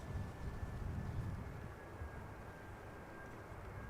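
An EasyJet Airbus A320 arriving at Amsterdam Schiphol, a faint, distant broadband jet roar that swells slightly and then eases, heard alone without talk.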